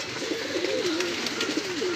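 Rampuri and Saharanpuri pigeons coo close by in soft, rolling, repeated calls over a faint background hiss.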